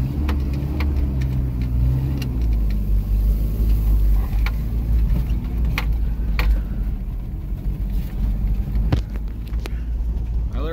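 A Toyota pickup truck driven flat out in second gear through a corn field: its engine roars and revs continuously, loud and close, with a steady drone, bumps and rattles throughout.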